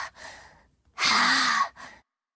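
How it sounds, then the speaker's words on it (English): A video game character breathing onto glass to clean it, a few soft sighing exhales with one long, louder huff in the middle, close and alone without speech. "When you're cleaning glass, you breathe on it first, don't you?"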